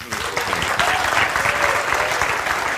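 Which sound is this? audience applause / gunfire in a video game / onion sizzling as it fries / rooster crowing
audience applause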